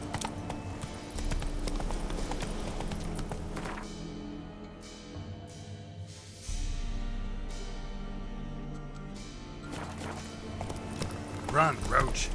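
Hooves clop rhythmically from a galloping horse in The Witcher 3, over game music and effects, with voices speaking at moments.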